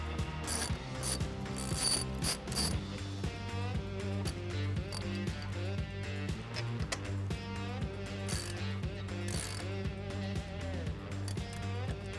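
A ratchet tightening bolts on the bows of a boat deck assembly, with rapid repeated close clicking in bursts and a mechanical ringing quality, and no talk.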